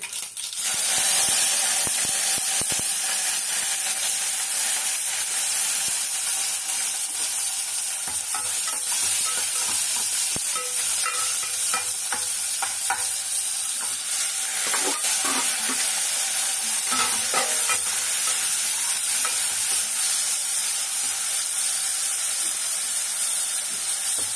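Mustard seeds, onions, dried red chillies and curry leaves frying in hot oil in a home kitchen for sambar, a loud, steady crackling sizzle with popping seeds and occasional stirring scrapes, continuous throughout.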